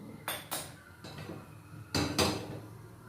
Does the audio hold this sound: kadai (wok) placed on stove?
yes